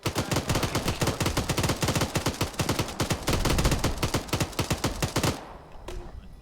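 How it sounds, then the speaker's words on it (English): Machine gun fire in the military video game Arma 3 rattles in a long, loud, rapid burst of evenly spaced shots lasting about five seconds, then stops abruptly and leaves a faint tail. "There's a machine gun there."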